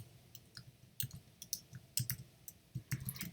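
Typing on a computer keyboard into a web browser's find box, a quick run of light, irregular clicks at close range with no talk.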